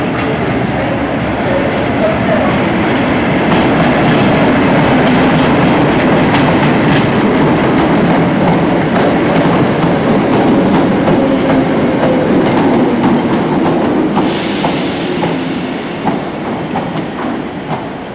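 A train runs along the railway in Lanarkshire, a loud continuous rumble and rattle of wheels on track with rhythmic clickety-clack throughout, no voices.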